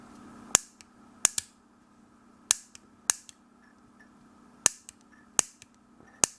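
Homemade mini fireball pistol firing in eight sharp, loud pops spread unevenly over several seconds, each a crisp crack with a short tail, over a steady low hum.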